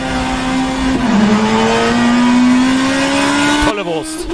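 A BMW M3 E92 GTE race car in rFactor 2 powers through a chicane at Oschersleben. The engine wails loudly and climbs steadily in pitch, then cuts abruptly into a quick downshift burble near the end.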